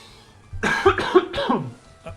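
A few harsh, throaty coughs burst out close to the microphone, loud and raspy, one right after another, then stop.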